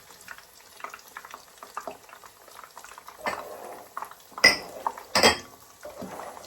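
Onions frying in sunflower oil for bean cakes (akara), a steady low sizzle with scattered clinks, then two louder bursts of pan handling and stirring near the end.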